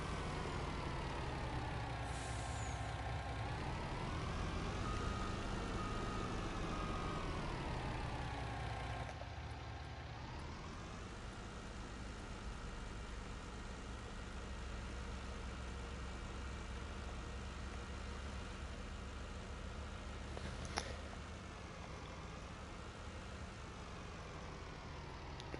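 Semi truck in Farming Simulator 19, a steady low diesel engine drone with shifting pitch as it accelerates and slows, a brief air-brake hiss near the end, no talk.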